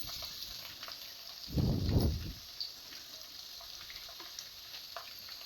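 Tempering seeds and coarsely crushed garlic hit hot oil for a tomato pachadi, giving a brief loud burst of sizzling, then a quieter steady frying hiss with no talking.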